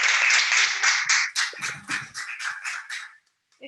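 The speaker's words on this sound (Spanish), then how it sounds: "una vez más un fuerte aplauso a Esperanza Gómez" An audience claps for a speaker at the close of a talk. The applause is moderate and fairly close, runs in rhythmic bursts, then thins out and stops.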